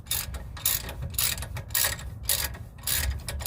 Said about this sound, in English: I used the cheater bar for more leverage to break this one free.